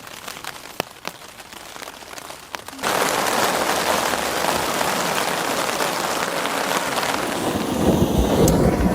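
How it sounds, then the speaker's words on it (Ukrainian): Scattered raindrops patter at first, then a sudden dense wash of light thunderstorm rain hisses steadily on a surface at a campsite by the Black Sea, close and continuous, with no talking. "є трохи молні, дощ такий не дуже сильний і так покапує"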